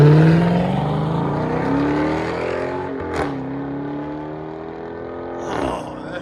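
Chrysler 300S with a 5.7L Hemi V8 and aftermarket Flowmaster exhaust, revving and pulling through gear shifts with a deep, rising engine note, loud and close, a brief whoosh in the middle.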